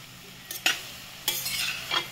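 Grated carrots for gajar halwa roasting in ghee on a gas stove: a soft bed of sizzle broken by a few distinct scrapes and clinks of a spoon stirring in the pan.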